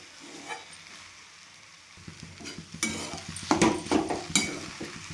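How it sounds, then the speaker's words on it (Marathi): Leftover cooked rice being stirred into tomato rice in a pan: quiet at first, then a close, busy run of spatula scrapes and knocks over a soft sizzle, growing louder toward the end, with no voices. "छान मिक्स करून घ्यायचं."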